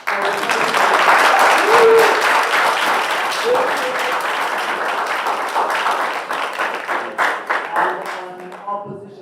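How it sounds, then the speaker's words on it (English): An audience claps for college debaters at a national debating championship final, sustained full applause that swells early and thins into scattered, distinct claps near the end, with some voices underneath. "A round of applause for"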